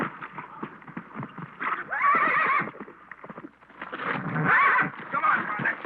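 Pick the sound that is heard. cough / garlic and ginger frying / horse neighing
horse neighing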